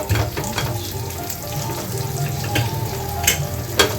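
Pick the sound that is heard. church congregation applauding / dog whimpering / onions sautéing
onions sautéing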